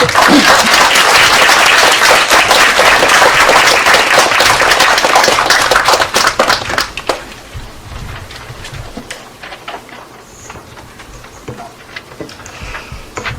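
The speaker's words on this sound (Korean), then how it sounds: "나오실 때 많은 박수로 환영해 주시기 바랍니다" Loud, dense applause from a church revival-meeting audience at a hospital's spring gathering, sustained for about six seconds before dropping to scattered claps and faint room noise.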